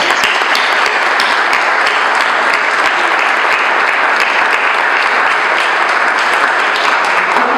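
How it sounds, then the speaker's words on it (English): Audience at a YMCA ribbon cutting in Fall River breaks into loud, sustained applause, a thick wash of many hands clapping evenly from start to finish. "If we could please give them a huge round of applause."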